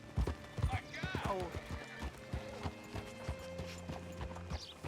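Horse hooves clip-clop on the ground in the video game Red Dead Redemption 2, a few uneven steps with a brief whinny, under speech and low game ambience.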